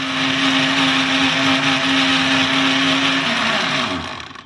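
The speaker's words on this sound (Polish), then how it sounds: "Wrzucamy banana i to wszystko ze sobą miksujemy." A blender mixing banana whirs loudly and steadily for several seconds, its motor pitch holding constant before winding down at the end.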